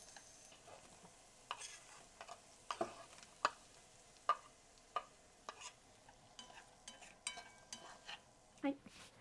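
Vegetables for ratatouille sauté quietly in a pan on low heat, a faint soft sizzle broken by scattered clicks and taps of utensils and knife work nearby.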